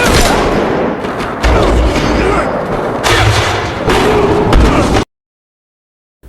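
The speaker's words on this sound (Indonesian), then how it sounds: "menembak John beberapa kali sampai membuatnya jatuh dari rooftop" Several loud gunshots from a John Wick film boom in a dense, rough burst of firing on a rooftop that continues for about five seconds, then cuts abruptly to silence.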